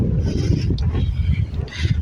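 Cold wind blowing outdoors, buffeting the microphone with a loud, low, gusty rumble that rises and falls continuously, no voices.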